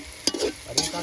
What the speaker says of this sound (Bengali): আমাদের বেগুন ভাজা হয়ে গেছে